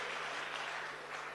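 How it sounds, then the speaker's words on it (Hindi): Applause from the audience at a kavi sammelan mushaira poetry recital, a dense continuous wash of clapping heard on its own for a short moment. "एक बार अपने लिए जोरदार तालियां बजाइए"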